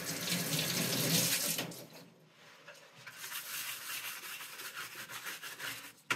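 Hot tap water runs steadily while a stained glass piece is cleaned, a loud rushing hiss at first that softens to a lighter splashing flow with some rubbing, close by and without speech.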